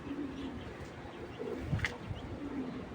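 A racing pigeon, a 2020 silver-coloured bird, coos softly in a few low, rounded calls with a brief chirp, close by, with no talking.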